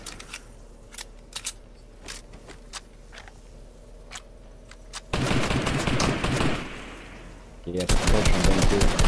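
Rapid automatic gunfire from the video game Fortnite, with sparse single shots early on giving way to loud sustained bursts of firing in the second half, a short pause, then another heavy burst.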